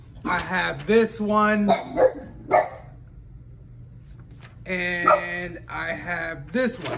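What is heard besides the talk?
dog barking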